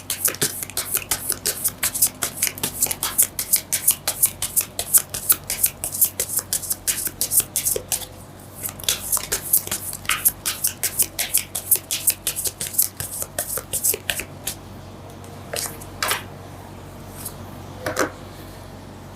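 Tarot cards are shuffled by hand in rapid, crisp riffling bursts that pause and resume, close up and loud, with sparse taps near the end and no talking.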